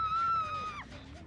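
A brief, high-pitched scream from a character in the video game Dead by Daylight, one sustained shriek that breaks off and fades, heard alone without talk.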